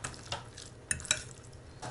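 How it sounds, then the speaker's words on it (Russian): Food being stirred in a bowl or pan, with a few brief scrapes and light clinks of a utensil, close and fairly quiet, no speech. "Все перемешиваю."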